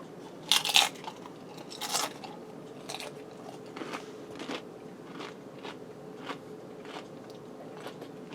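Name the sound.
crunching tortilla chips with nacho toppings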